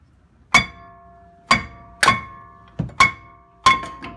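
Hammer strikes ring out on a rusted front brake rotor of a BMW 5 Series E60/E61, six sharp metallic blows spaced unevenly, close and loud with ringing decay.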